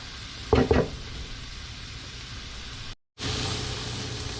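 Onions fry in a pan for chicken tinga, with a steady low sizzle, a short louder scrape of stirring near the start, and a brief dropout before the frying noise resumes slightly brighter.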